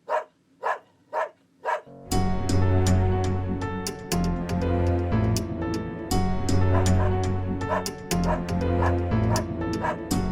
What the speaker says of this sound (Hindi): ये तो ब्रूनो की भौंकने की आवाज लगती है।